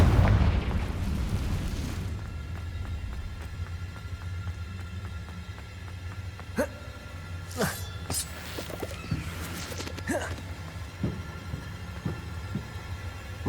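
In Hogwarts Legacy, the Confringo blasting spell lands with a muffled boom at the start, followed by scattered sharp pops and crackles in a quieter stretch of game ambience.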